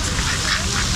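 Domestic ducks quacking at a local park pond, a busy overlapping chorus of calls that is steady and fairly loud throughout the short moment.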